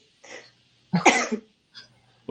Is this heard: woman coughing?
yes